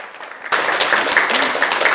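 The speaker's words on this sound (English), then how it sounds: "Well, that wasn't calling for applause" Applause from a church congregation during a sermon, beginning abruptly after a quiet moment and then sustained as a full, close burst of many hands clapping.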